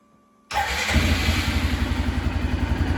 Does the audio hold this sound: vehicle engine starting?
yes